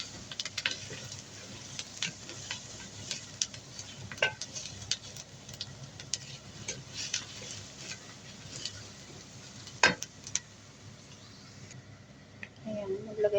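Chopped garlic being stirred in a frying pan, with a soft continuous sizzle and scraping, tapping strokes of the spatula, and a person talking over the cooking.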